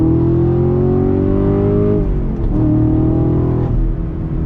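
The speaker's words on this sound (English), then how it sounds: "Those automatic downshifts, sound really, really great." A 2020 Chevrolet Camaro SS engine revs loudly and steadily, its pitch dropping in quick steps as the automatic transmission downshifts, close and continuous.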